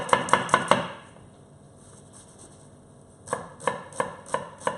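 A knife chops red onion on a board for a quick spiced fish stew: a run of four sharp, close knocks, a pause, then another burst of evenly spaced chops, crisp and alone without talk.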